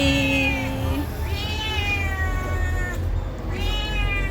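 Several drawn-out cat meows, close and fairly loud, over a steady low background hum.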